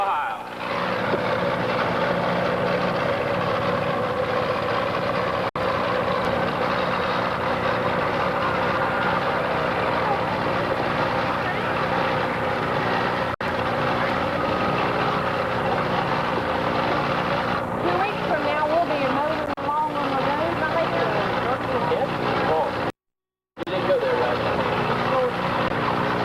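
A 427 Chevy drag race car engine drones at a track, a loud, sustained mechanical roar lasting over twenty seconds, with an announcer talking over it and a brief dropout near the end.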